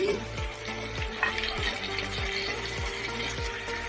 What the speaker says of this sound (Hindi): हम प्याज में थोड़ा सा गोश्त को फ्राई कर रहे हैं